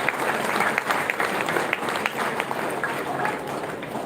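An annual day ceremony audience breaks into sustained applause, a dense, fairly loud crowd of clapping hands that continues evenly and thins slightly toward the end.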